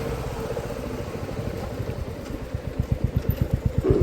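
A Royal Enfield motorcycle engine chugs steadily, its pulsing putter growing louder and faster toward the end as the bike rides along a road.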